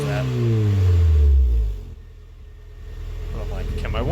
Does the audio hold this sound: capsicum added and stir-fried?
no